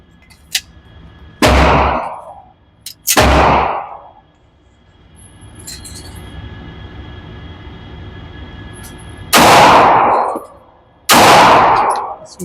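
Four loud, close gunshots from a Rock Island Armory .45 ACP pistol fired at targets outdoors, in two pairs several seconds apart, each with a long echoing tail and a quiet stretch between.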